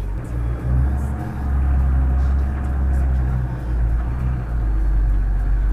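A Nissan Patrol Y60 off-roader pulls away, its engine a deep, continuous rumble close inside the cabin that swells and eases slightly as it gets moving, with no talk.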